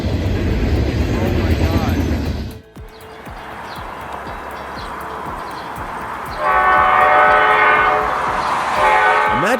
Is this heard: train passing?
yes